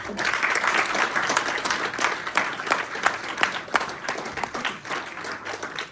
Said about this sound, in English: So let's have a round of applause for Damp Sam.